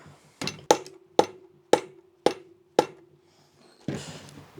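Six sharp, evenly spaced rubber hammer taps ring on the hollow metal engine case of a Honda ATC 250R, each with a short resonant tail, followed by a brief scraping rustle.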